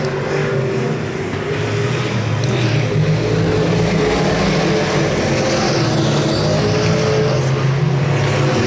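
Race cars roaring around a dirt oval at the Vern and Fran Claiborne Memorial in Electric City, Missouri, a steady loud engine drone with no pauses and no talk.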